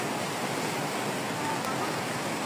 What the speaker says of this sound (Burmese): တခါမှအဲ့လောက်ကြီးလှိုင်းလုံးကြီးอ่ะမမြင်ဘူးနော်